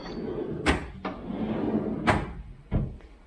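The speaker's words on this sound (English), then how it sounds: "There's a hidey drawer for my cutlery" Kitchen cupboard cutlery drawer sliding open and shut several times, giving sharp wooden thumps and knocks close by over a steady low room background.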